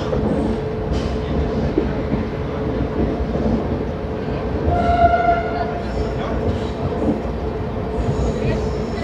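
A train pulls into Kota railway station with a loud, continuous rumble of rolling wagons. Brief horn-like tones rise midway, and voices chatter on the platform.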